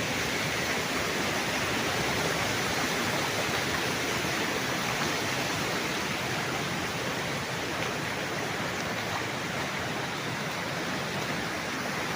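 A stream flowing in Majayjay, Laguna: water rushes steadily in a continuous broadband roar, like a river flowing nearby over rocks, unchanging throughout with no voices.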